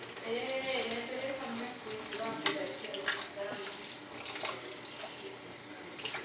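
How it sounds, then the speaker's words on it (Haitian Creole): Water poured from a tap into a bowl of ground meat for washing, an uneven splashing trickle with sharp drips and pauses, fairly faint, with a voice speaking intermittently over it. "Mettre un petit de l'eau là-dedans."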